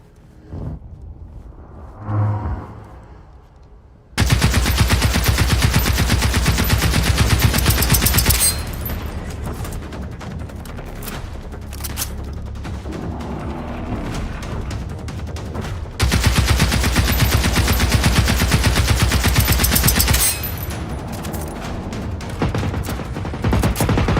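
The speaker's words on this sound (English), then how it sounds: "It can't actually get me with its machine guns" A hostile robot in Generation Zero rakes the area with loud, sustained machine-gun bursts. Dense rapid rattling rounds come in long stretches, with short lulls between them, after a brief quiet opening.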